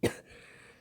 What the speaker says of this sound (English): Sorry, a cough.